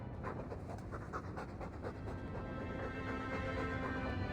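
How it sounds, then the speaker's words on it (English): Video game Dragon Age 2: a dog pants steadily and rhythmically close by, with fast, even breaths over a low ambient background. No one speaks. "All that noisy dog breath, day in, day out, make him stop."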